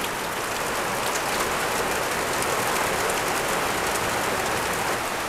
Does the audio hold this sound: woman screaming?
no